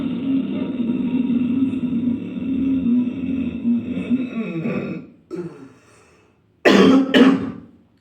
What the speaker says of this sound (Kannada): ಈ ರೀತಿ ಕೆಮ್ಮು ಬರ್ಲಿಕ್ಕೆ ಸ್ಟಾರ್ಟ್ ಆಗ್ತದೆ.